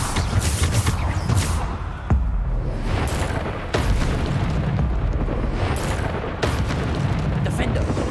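Bombarda spell blasts in Hogwarts Legacy erupt as a dense, loud run of booming explosions and crackling bursts, one after another with brief lulls, while a voice keeps talking over the combat.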